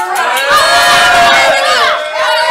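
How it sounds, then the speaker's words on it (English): A game show audience cheers and shouts loudly and continuously for a couple of seconds, a dense wall of excited voices including children's shrieks. "Cheer out, everyone!"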